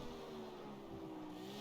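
Lamborghini Aventador engine in the racing game CarX Street holds a steady, sustained drone at fairly constant revs, continuous and alone without talk.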